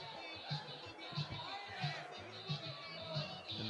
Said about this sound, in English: the crowd here in Philly showing their appreciation for Ricky and Robert